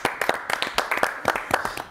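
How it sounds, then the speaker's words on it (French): A studio audience at a televised show claps in a quick, even rhythm, sharp, close hand strikes repeating steadily for a couple of seconds with no other sounds. "On peut applaudir."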